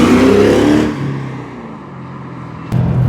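A V8-swapped MG ZT 260 running Mustang power accelerates hard with a loud, close engine roar, then settles into a steady low drone before swelling again at the end.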